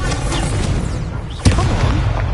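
An Incendio fire spell cast in a wizarding school video game bursts with a sharp, loud boom midway, set against a steady background of game ambience.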